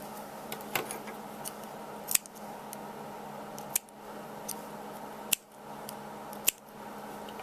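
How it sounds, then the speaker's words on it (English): Scissors snip off the yarn ends on a crocheted baby Pooh Bear beanie, a handful of sharp, close clicks spaced apart over a faint steady hum. "I'm going to just tie them in a knot and cut the little ends off."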